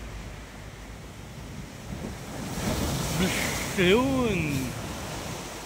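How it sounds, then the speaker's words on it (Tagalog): Sea waves surge and crash against the shore at a coastal landmark in Bindoy, Philippines, a broad continuous roar with wind noise building toward the middle, while someone talks over it. "Lakas ng alon oh, mahampas oh."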